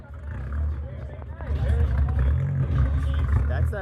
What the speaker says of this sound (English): That's that SRT4 cammed up, dude.